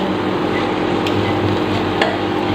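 Karela (bitter gourd) fry stirred in a pan on an induction stove makes a steady sizzling hiss under a constant low hum, with a couple of faint utensil taps.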